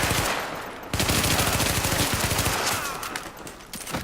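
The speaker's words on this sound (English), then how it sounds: "You can actually shoot through the windows." Rapid automatic gunfire in The Division, fired through windows, with dense rattling bursts nearly throughout after a brief gap near the start.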